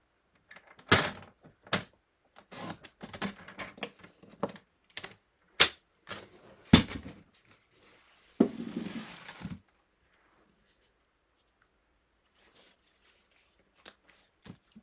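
Cardstock for a scrapbooking pop-up book card is trimmed on a paper cutter, a run of sharp close clicks and snaps followed by a longer sliding cut, then near silence with a few faint taps.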